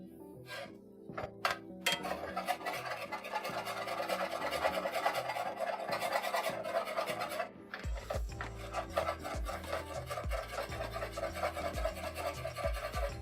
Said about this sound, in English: Almost loosened up all that stuck on bechamel.